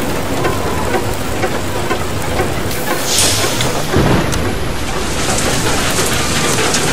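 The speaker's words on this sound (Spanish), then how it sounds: "Qué lluvia." Heavy rain and rolling thunder in the video game Far Lone Sails: a loud, dense downpour hisses throughout while a deep thunder rumble swells in midway and fades back into the rain.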